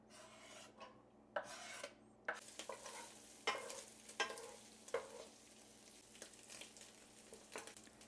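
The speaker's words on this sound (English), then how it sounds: "we're going to fry up that bacon" Bacon frying in a pan makes a quiet, continuous crackle, broken by repeated scraping and rasping strokes as a utensil turns the strips, with short gaps between the strokes and no speech.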